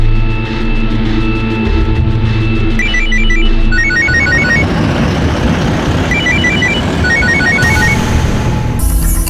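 A telephone rings with repeated bursts of quick, bright electronic trills over a loud, busy background hum, the rings sounding in clusters.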